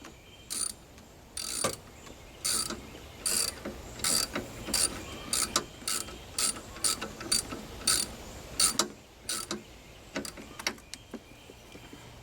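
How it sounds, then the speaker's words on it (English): A hand ratchet tightening brand-new, uncorroded bolts: quick bursts of bright clicking strokes repeated in a steady back-and-forth rhythm, close and clear with no talking. "I'll be able to tighten the hell out of everything"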